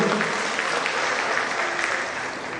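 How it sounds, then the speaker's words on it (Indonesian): Audience applause at a formal installation ceremony for a women entrepreneurs' association board in Jakarta, honouring the deputy governor, a dense steady clapping from a crowd that carries on through the clip. "Sekali lagi tepuk tangan untuk Pak Wagub."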